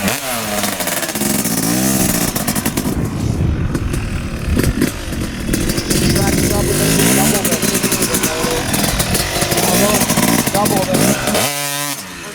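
A two-stroke CR250 race dirt bike engine runs loud and close throughout, with a ringing, crackling exhaust and repeated revving as the rider sets off. A person talks briefly near the end.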